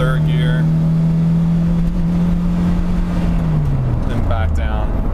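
A car engine pulls in third gear with a steady droning hum that holds, then drops in pitch as it eases off, close and loud, with a voice speaking over it.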